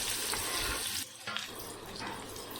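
Finely chopped onion tipped into hot oil with spluttering cumin seeds gives a dense, steady hiss of frying that briefly dips, then resumes a close, even sizzle.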